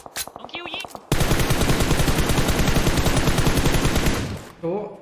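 Gunfire in a video game: a few separate shots, then a long, loud, rapid automatic burst that runs for about three seconds, followed by voices talking near the end.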